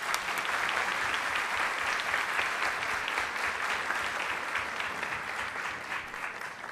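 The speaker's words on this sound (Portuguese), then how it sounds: "uma salva de palmas para vocês" Steady audience applause closing a forum on domestic violence, dense even clapping from a seated crowd lasting throughout, fading only slightly toward the end.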